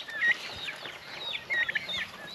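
Turkey chicks in a barn giving soft, high repeated peeps and chirps, faint and close, scattered across a quiet background.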